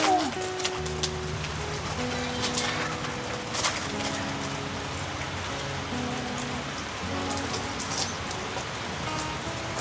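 Steady rain falls on a rural farm property, a dense continuous hiss with scattered drips, moderately loud and even throughout, with faint background tones.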